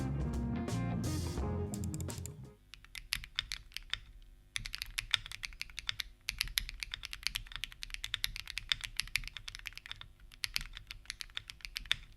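Rapid, steady typing on a Monka 6075 Pro mechanical keyboard, crisp, fairly thin clacky keystrokes close up, following a brief burst of music at the start.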